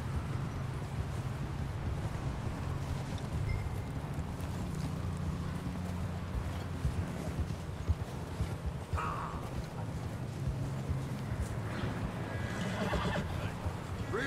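A horse whinnies amid steady wind noise in Red Dead Redemption 2, with soft hoofbeats plodding underneath throughout.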